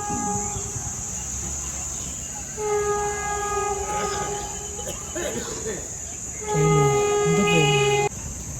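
A Vande Bharat express train passes a closed level crossing with a loud, rumbling rush of wheels and horn blasts, heard up close over a background of insect chirping.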